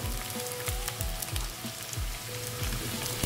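Potatoes sizzle in hot oil with softened onions in a pan, a steady crackling fry with faint recurring thuds and scraping, close and continuous.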